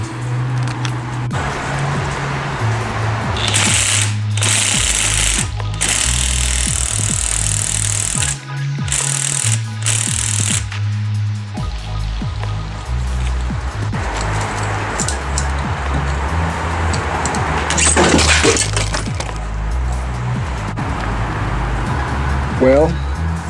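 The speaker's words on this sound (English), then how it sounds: "I'm gonna bust this nut." A power tool hammers away steadily at a seized nut on a Fox Body Mustang's front suspension, a loud, continuous rattling drone with brief pauses and restarts and a final metallic crack near the end.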